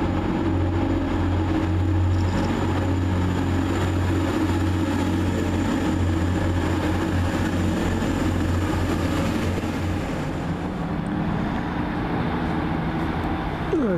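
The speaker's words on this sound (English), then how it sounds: "Now leaving this 185120 with the 1535 North TransPennine service from Blackpool North to Manchester Airport" A Class 185 TransPennine diesel multiple unit pulls away from a station platform on a Blackpool North to Manchester Airport service, its steady engine drone and low hum loud and close, holding for most of the stretch before slowly easing off.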